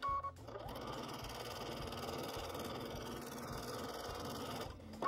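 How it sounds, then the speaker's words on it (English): A sewing machine free-motion stitching a scallop edge on half-flower shapes of an appliqué quilt gives a continuous, even mechanical whir that runs almost uninterrupted before stopping near the end, with no voices. "sew the scallop edge on these half flower shapes that are around the outside edge"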